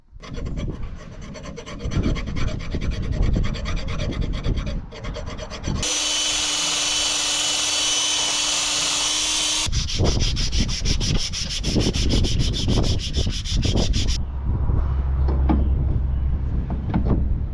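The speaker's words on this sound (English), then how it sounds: "Just trying to grind, or file that out a little bit and smooth this up a bit" A metal channel on a Case 8575 square baler's stuffer arm is ground or filed by hand, loud rasping strokes in repeated bursts that change character across several passes, close up with no talk.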